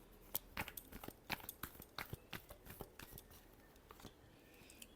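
Tarot cards are shuffled up close in a rapid run of crisp, light riffling taps with no voices.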